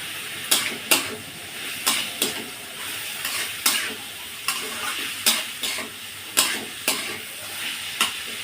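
Small fish curry being stirred in a pan with salt and turmeric, a spatula scraping in repeated irregular strokes over a soft continuous sizzle, close and clear.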